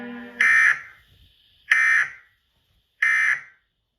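Fake Emergency Alert System alarm tone for an SCP-049 scenario, sounding three loud, harsh buzzing attention-signal bursts separated by short gaps.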